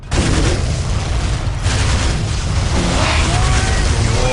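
Loud, continuous barrage of gunfire and booming explosions in the Warhammer 40,000 strategy game Dawn of War: Soul Storm, a dense battle din with no letup across the whole stretch.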